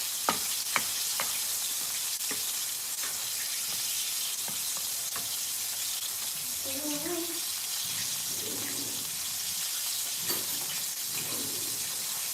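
Pancetta frying in a pan at home, a steady broadband sizzle running throughout, with occasional clinks of utensils and a voice briefly audible in the background near the middle.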